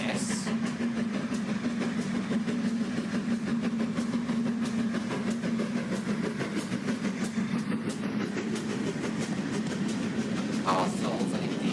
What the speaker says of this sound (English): Castles and indeed all other Great Western engines can make such amazing chucking sounds